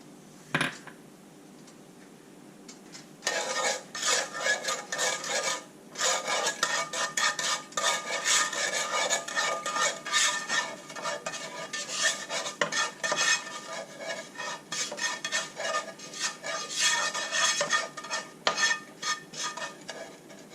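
Sugar caramelizes in a dry pan without oil as the first step for pork riblets. After a quiet start, a utensil scrapes and stirs in steady, rasping strokes, close and continuous, with a light sizzle underneath.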